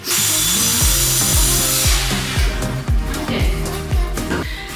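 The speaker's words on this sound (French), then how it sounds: "Andy va s'attaquer à couper une poutre" A power tool cuts through a wooden beam, with a steady loud whine broken by a rhythmic series of heavy knocks roughly every half second as the blade works through the wood.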